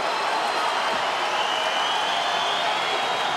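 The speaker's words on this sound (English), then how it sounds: "Crowd showing its appreciation for their homegrown champion." UFC 310 arena crowd applauding and cheering their homegrown champion during the Pantoja vs Erceg fight, a loud unbroken wash of clapping and crowd noise filling the whole moment.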